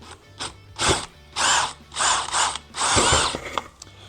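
A power drill whirs in several short bursts, drilling into a door, starting and stopping repeatedly at close range with brief quiet gaps between.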